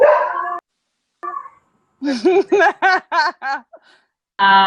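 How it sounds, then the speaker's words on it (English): A dog barks excitedly in a rapid run of five or six loud, close yelps, with a voice talking just before and right after. "the dog's going crazy now"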